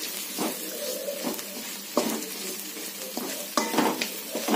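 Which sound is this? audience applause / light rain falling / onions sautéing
onions sautéing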